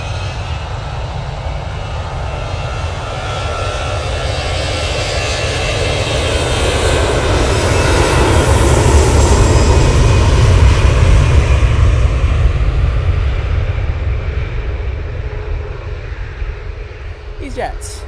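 EasyJet jet airliner taking off at Manchester Airport toward Lisbon, a loud, steady engine roar that builds to a peak midway and then slowly fades away.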